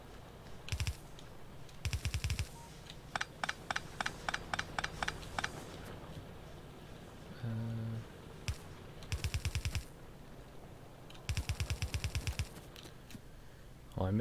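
A turret in the Factorio video game fires in short rapid bursts of sharp clicking gunshots, repeating several times with gaps, moderately loud over a quiet background.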